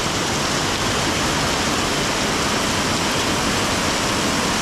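Heavy rain pours down on a street in Goncalo Alley, Macau, a loud, dense, steady hiss of water that fills the whole recording without pause and with nobody speaking.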